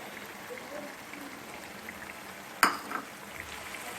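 Chicken with ginger and garlic sautéing in a kadhai, a steady soft sizzle and crackle throughout, with one sharp clatter near the end as the pan is stirred.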